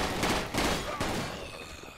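Dense gunfire in the zombie shooter game Zombie Panic comes as a rapid, sustained rattle of shots that is loudest early and tapers off, with voices faintly mixed in.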